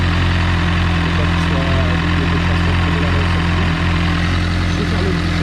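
A motorcycle idles steadily through warm-up cycles after coolant work, its engine a loud, even, low throb with a constant hum and no pauses.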